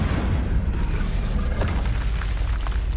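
Incendio fire spell from the video game Hogwarts Legacy, a rumbling fiery burst with a low, sustained boom throughout, moderately loud with no voices.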